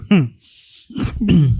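A man clears his throat with a short guttural rasp, followed by a brief hiss and then more vocal throat noise, close and fairly loud.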